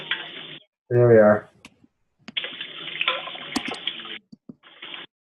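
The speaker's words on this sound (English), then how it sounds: "She's washing dishes." Tap water runs in a kitchen sink while dishes are washed, a steady broadband hiss in long stretches with a few small clinks, broken by a brief loud voice near the start.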